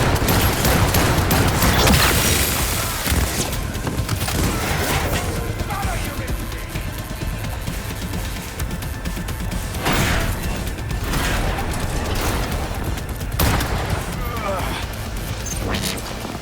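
Sustained gunfire in Cyberpunk 2077 combat, with sharp bursts and crashing impacts under shouted voices, staying loud throughout with several louder spikes.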